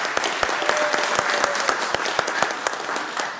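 A crowd claps steadily at a city council meeting in Bastrop, with sharp individual hand claps standing out over a dense, even patter that continues throughout.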